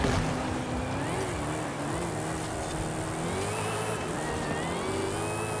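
A Dodge Hellcat Redeye engine revs in Forza Horizon 5 with a continuous roar that rises and falls between shifts as the car drives steadily.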